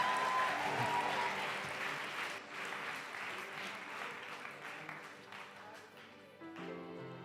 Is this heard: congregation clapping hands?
yes